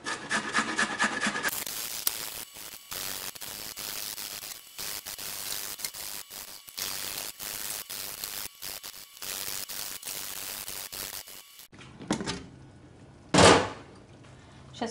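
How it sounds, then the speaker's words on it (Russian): Carrots rubbed on a coarse hand grater in a home kitchen, a rapid series of rough rasping strokes with brief pauses, close and fairly loud, ending with a few louder knocks and scrapes. "теперь тру морковь на крупной терке."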